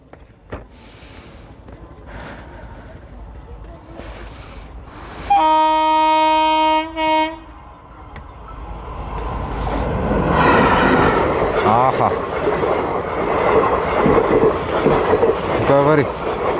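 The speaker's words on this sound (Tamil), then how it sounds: "வருதுடா ட்ரெயின்." A train passes close by on railway tracks, its loud horn blaring steadily for about two seconds before the rolling rumble and clatter of the cars builds and continues, with people talking nearby.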